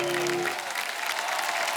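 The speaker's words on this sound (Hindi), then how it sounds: "आप सबकी जोरदार तालियों के बीच आकृति कक्कड़" Studio audience applause on a Hindi television comedy show, a dense steady wash of clapping through the whole short stretch, with sustained tones fading out near its start.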